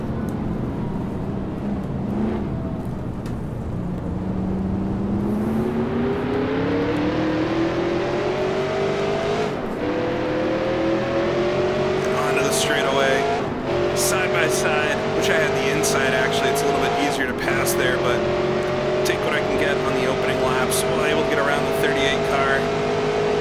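A 1966 NASCAR Grand National race car in a racing game drones steadily at close range, its engine pitch climbing and settling through gear changes, with other cars' engines audible around it.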